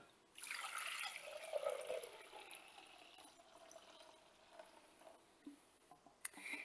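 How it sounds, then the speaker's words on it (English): Homemade kombucha is poured from a vessel into a big bowl, a faint, steady trickling stream of liquid that tapers off, ending with a small clink. "So I will pour it into a big bowl"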